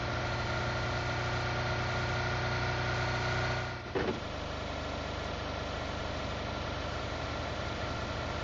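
A motorbike engine idles in the game PUBG Mobile, a steady, loud, close mechanical drone that dips briefly near the middle before settling back to the same hum. No one speaks.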